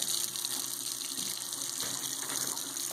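Tap water runs steadily into a sink while G10 grips are washed with dish soap, a close, continuous splashing flow throughout.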